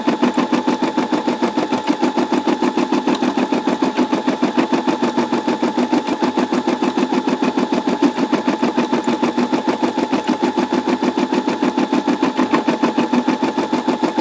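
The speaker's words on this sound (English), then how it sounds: "It's embroidering well." Steady rapid clattering of a Brother SE625 embroidery machine stitching continuously at an even pace, close and fairly loud, no talking.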